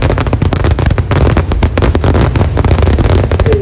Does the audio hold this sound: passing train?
no